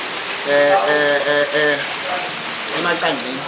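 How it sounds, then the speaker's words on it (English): Rain drumming on the roof of a lounge in Upper Kwamakoma, a steady loud wash of patter throughout, with voices talking underneath it. "So I'm sure you can hear the background noise, you can hear the rain on the"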